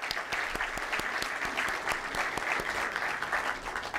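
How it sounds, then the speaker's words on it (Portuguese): An audience at a congress applauds, with dense, steady clapping that carries on for the whole stretch, close and fairly loud. "Uma salva de palmas para ela."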